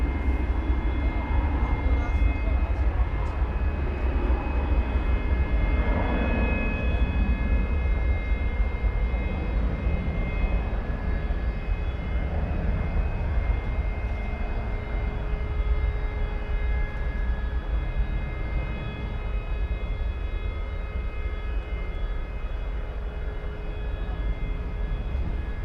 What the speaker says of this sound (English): This is flight 738 going to Los Angeles. It's an Airbus A320.